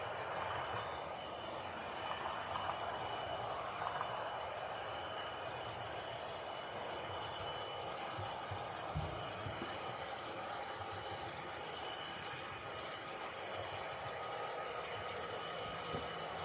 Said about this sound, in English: So Conrail train's just a mixed train